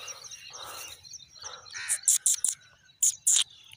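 Crows and smaller birds calling around a village, a scatter of sharp caws and chirps in short bursts, fairly close over a quiet background.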